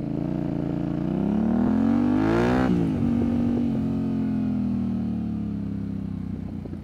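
Yamaha Tenere 700 (T7) engine under way on a ride, a loud steady drone that climbs in a rev before a gear change around mid-clip, then settles into a smooth cruising hum, with no talking.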